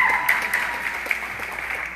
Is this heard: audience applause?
yes